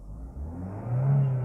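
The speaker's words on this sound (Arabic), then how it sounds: "ابتدى الموتور يقطع" Chevrolet Cruze engine with a P0300 misfire, held on the accelerator as it runs unevenly and cuts out, giving a close, low rumbling drone that swells and rises in pitch toward the end.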